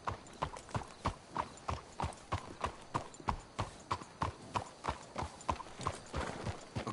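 Horse hooves clip-clop steadily on the ground in the game Red Dead Redemption 2, an even walking rhythm of crisp, close hoofbeats running throughout with nothing else over them.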